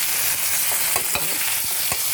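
Onion, tomato, ginger, garlic and curry leaves sauté in a hot pan for a soybean chunk curry, a steady sizzle with several quick scraping stirs of a spatula, close and without talk.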